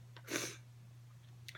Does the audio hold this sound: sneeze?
yes